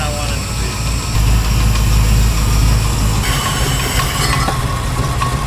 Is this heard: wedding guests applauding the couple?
no